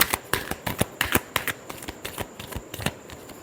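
A deck of tarot cards shuffled up close in quick, crisp riffling bursts that repeat in a steady rhythm for a few seconds, with no voices.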